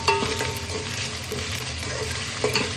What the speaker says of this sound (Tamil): இஞ்சி பூண்டு நல்லா அந்த நெய்யிலையும் எண்ணெயிலையும் நல்லா வதங்கி வரைக்கும் பச்சை வாசனை போகிற வரைக்கும் நம்ம வதக்கிக்கலாம்